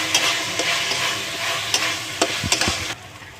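A spice paste of chili and tomato with turmeric and red chili powder fries and sizzles steadily in a pan, while a spoon stirs and scrapes with a few knocks.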